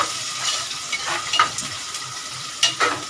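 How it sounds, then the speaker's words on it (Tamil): Onions sizzle in a pan while being sautéed for chicken biryani, a steady frying hiss broken by a few scraping stirs of a utensil close by. "வெங்காயம் போட்டு வதக்கிட்டுருக்கோம்."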